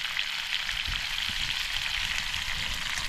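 Food sizzling in hot oil at a hillside campsite, a steady crackling hiss that stays close and even throughout, with no talking.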